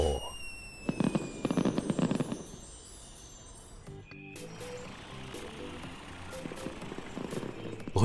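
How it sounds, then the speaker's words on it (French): Cartoon fireworks bursting and crackling in a loud cluster of bangs, followed by a softer fizzing, sparkling stretch with a short musical tone in the background. "Regarde, Carl, des feux d'artifice."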